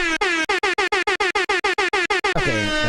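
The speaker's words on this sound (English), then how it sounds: "I'm going to hit the air horn 20K times to celebrate" A rapid run of about fifteen loud air horn blasts in quick succession, sounded in celebration, each short honk cut by a brief gap before a final longer blare trails off.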